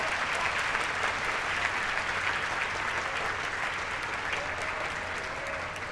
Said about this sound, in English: Please, let's give the awesome faculty and staff a round of applause.